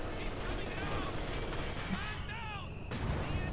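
Mortars fire in the video game Company of Heroes 2 amid dense, continuous battle noise. Deep rumbling blasts and gunfire blend with brief tonal game sounds, loud and close throughout.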